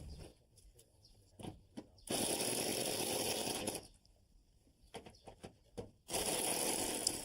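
A power tool snugs lag bolts into a deck ledger, with two long loud whirring bursts separated by quieter stretches of sharp knocks and clicks.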